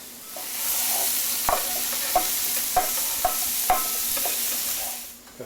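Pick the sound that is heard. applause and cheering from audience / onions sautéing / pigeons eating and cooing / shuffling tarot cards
onions sautéing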